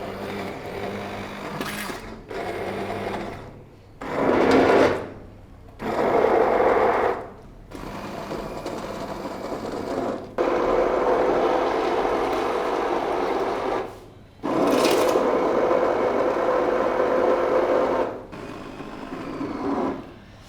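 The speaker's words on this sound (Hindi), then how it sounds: "तमाम स्पाइसेस मिक्स करने के बाद इसको मैं हैंड ब्लेंडर के साथ ग्राइंड कर लूँगी।" A hand blender grinds haleem in bursts, a whining motor buzz that starts and stops several times, with short pauses between runs and longer steady stretches toward the end, close and moderately loud.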